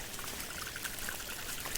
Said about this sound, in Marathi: सगळीकडे पाणीच पाणी